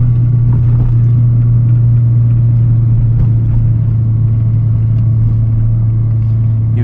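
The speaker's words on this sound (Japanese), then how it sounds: "詰まってきたんで、あとはエンジンブレーキで流しながら、" Steady, loud car engine drone with a strong low hum, engine braking while coasting through curves on a Japanese mountain pass in autumn, close and continuous with no talk.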